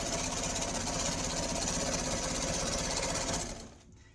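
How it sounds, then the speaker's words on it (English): A sewing machine runs steadily, stitching a zigzag seam finish along the edge of chair cushion fabric with a fast, even, rattling whir that stays constant for several seconds before stopping. "I'm just putting my machine on a zigzag, and along that outside edge, I'm finishing off the seam."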